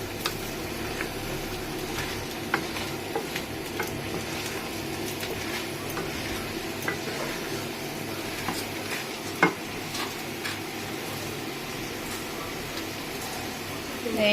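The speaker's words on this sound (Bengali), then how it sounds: "আলুটাও দিয়ে দিয়েছে ওর মধ্যে, দিয়ে এবার মশলার সাথে এটা ভালো করে কষিয়ে নিচ্ছে মা" Potatoes sautéing with spices in a pan for an Indian jackfruit biryani, a steady close sizzle and frying hiss with intermittent stirring scrapes and clinks of the utensil throughout.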